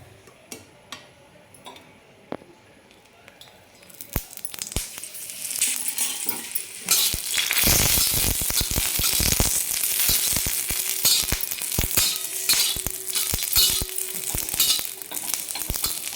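Green chillies roast in a thin stream of oil on a hot iron tava for mutton sukka, starting with a few faint ticks, then bursting after four seconds into a loud, steady crackling sizzle with sharp pops throughout.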